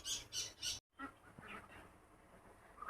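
Ducks quack in three loud, rhythmic bursts, then softer, scattered squawks follow after a brief gap, all fairly faint overall.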